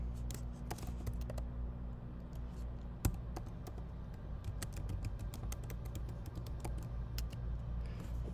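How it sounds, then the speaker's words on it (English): A computer keyboard being typed on, faint and close, scattered key clicks at an uneven pace over a low steady room hum, no talking. "So let's type in the title."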